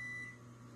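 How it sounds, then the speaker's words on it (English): A dishwasher beeps in the background, a steady high electronic tone held for a moment and then fading, faint behind a low hum in an otherwise quiet room. "I apologize for the beeping in the background."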